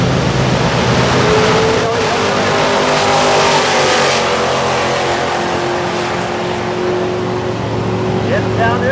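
A Ford outlaw drag racing car accelerates down the lane, a loud, continuous engine roar that holds steady and slowly rises in pitch, with an announcer talking over it.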